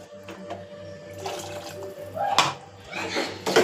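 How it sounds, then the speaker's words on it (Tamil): Water splashes into a pot for rasam in a couple of short, close pours over a low, steady hum. "இப்போது இதால் ஒரு செம்பு தண்ணி ஊற்றி கொதிக்க விடணும்"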